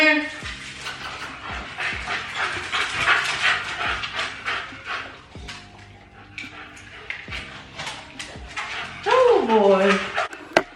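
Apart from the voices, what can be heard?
dogs playing and barking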